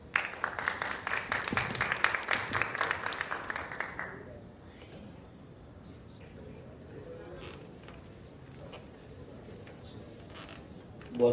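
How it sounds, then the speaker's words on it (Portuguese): Audience applause at a health tourism convention greets a speaker, a dense, moderately loud burst of clapping for about four seconds that fades to quiet room noise with faint voices. "Vamos recebê-lo com uma salva de palmas"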